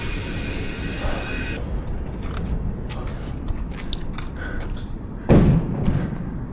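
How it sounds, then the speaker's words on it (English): A passing freight train under an elevated spot in Philadelphia, heard as a steady rolling rumble with a high wheel squeal early on, intermittent clanks, and a sudden louder burst near the end. "There's the freight train."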